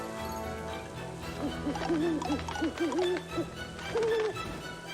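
Owl head in the video game Puppeteer gives a series of short, wavering hoots, tonal and fairly close, repeating through the middle and ending on one longer hoot over steady game music.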